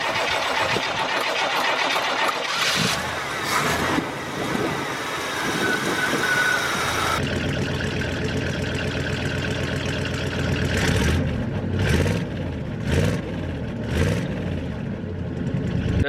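An OBS truck engine with a manual-choke carburetor and new speed parts cranks and fires up, then runs roughly at idle with a few loud revs near the end, close and steady.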